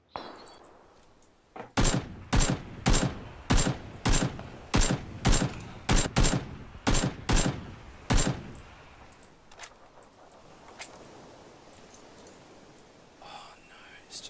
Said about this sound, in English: he's got the heavy machine gun.